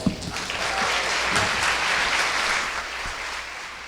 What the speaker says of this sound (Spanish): Esa ovación al distinguido magistrado.